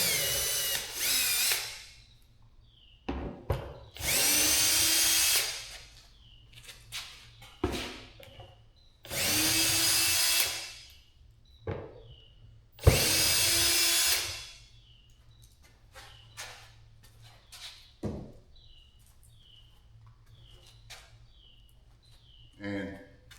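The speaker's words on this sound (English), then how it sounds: "What I'm going to be using is an impact, and I have like a nut driver on here." An impact driver fitted with a nut driver works loose the motor on a deer feeder, firing in several loud, rattling bursts separated by pauses filled with small clicks and handling noises, with a person talking in between.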